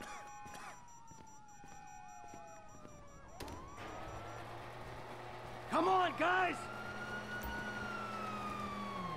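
Police sirens in GTA V wail, rising and falling over a rumbling background, a sharp electronic yelp bursts in midway, and a voice calls out briefly.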